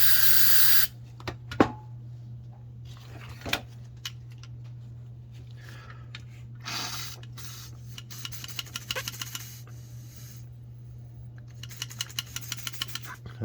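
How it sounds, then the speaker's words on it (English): A burst of aerosol cleaner hisses into the carburetor of a Yamaha TW200 motorcycle at the start, followed by quiet scraping and light clicking of handling parts over a steady low hum. "What I'm gonna do is spray some cleaner in here, and then I'll blow through and get whatever trash is in there."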